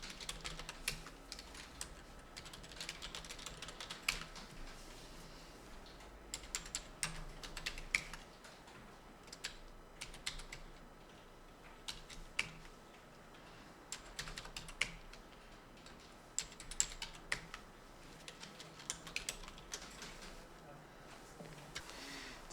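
Quiet, rapid clicking of keys on a computer keyboard continues throughout, with irregular bursts of typing and a few louder taps, faint and close.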